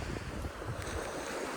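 Sea waves wash onto a beach in a steady, continuous roar, with wind buffeting the microphone throughout and no voices.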